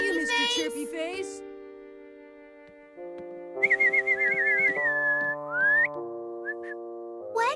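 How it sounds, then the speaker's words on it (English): A voice whistles to call a bird in a cartoon scene, giving clear, close melodic whistles with trills and sliding notes. Sustained musical tones run beneath the whistling, and there is a short vocal burst at the start. "Don't birds always answer to whistling?"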